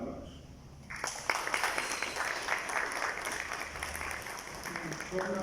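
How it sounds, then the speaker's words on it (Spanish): Applause from an audience at a book presentation at a college, starting after a second of quiet room tone, then a sustained, moderately faint patter of clapping with a few louder individual claps. "Por favor, un aplauso."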